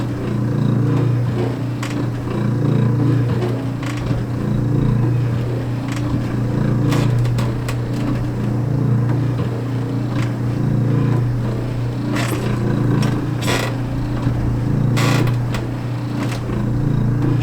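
A 1985 Yamaha Tri-Zinger 25-cent coin-operated kids ride runs with a steady low motor hum and faint rattles throughout, close and continuous.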